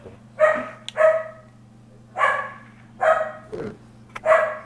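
A pet dog barks and yips in a fretful outburst, about five sharp barks spaced irregularly over a few seconds with a whimpering tone, nearby, over a steady low electronic hum.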